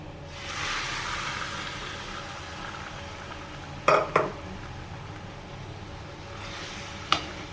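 Cooked beef going into a hot frying pan for a beef roast, a steady soft sizzle with a few sharp metallic clinks of a utensil against the pan.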